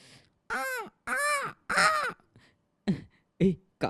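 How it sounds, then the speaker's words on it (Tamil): Several crow caws ring out in a forest setting, loud and close, coming as separate harsh calls in an uneven series with short gaps between them, followed by a few shorter, clipped calls. "காக்கா தான், வேற ஒன்றும் கிடையாது."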